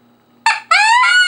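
A compensator wood duck call mimics ducks sitting on water. A short squeal is followed at once by a longer, rising, reedy whistle, both loud and close after a moment of near silence.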